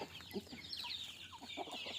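Desi hens on a small farm cluck softly and chatter in a quiet, busy flock, with brief overlapping calls rising and falling against faint background noise.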